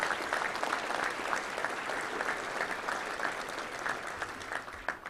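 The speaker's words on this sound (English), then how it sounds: "Let's give all the assistants a round of applause." At a Little Rock Touchdown Club luncheon, a room claps steadily for the assistant football coaches, a sustained moderate round of many hands with no voices over it.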